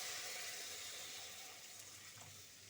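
Water pouring into a pan of prawn curry cooked with ginger, cumin and chili paste, a steady broadband rush that runs unbroken and slowly fades a little.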